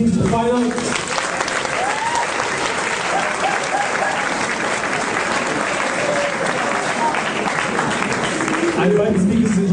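A debate-final audience gives a sustained, loud round of applause, dense clapping filling the hall for the whole stretch, with a voice speaking briefly at the start and again near the end.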